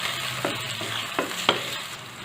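Chopped onion and whole spices are stirred in a hot pan for a Kathiyawadi tomato dal. A soft, continuous sizzle is broken by three or four distinct scraping strokes of the spoon, with no voices.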